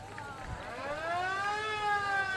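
Police sirens at a Veterans Day parade in San Jose wail, rising and falling in sweeping tones, moderately loud and steady, with a faint murmur of a crowd beneath.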